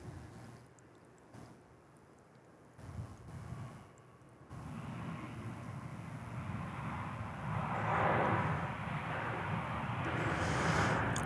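An American Airlines passenger jet touches down at DFW Airport, its engine roar building into a loud, steady broadband rush with wind noise, growing nearer and stronger over the second half.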